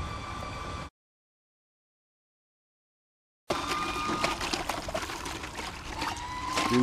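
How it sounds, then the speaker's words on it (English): Water pours and trickles steadily out of a freshly cleaned foundation drain line, a close, wet splashing flow that drops out briefly for a gap of silence and then resumes. "Now we've got a real good flow of water coming through here."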